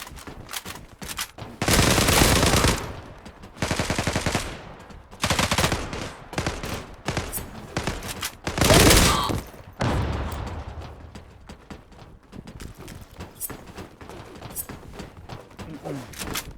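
Video game shooter gunfire: repeated loud bursts of rapid automatic fire, several long sustained volleys separated by brief pauses, then scattered quieter shots toward the end.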